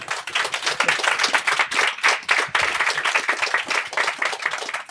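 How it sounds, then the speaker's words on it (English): A small group of people clapping in appreciation, brisk and continuous hand claps throughout, close and fairly loud with no talk over them. "That is worth a clap."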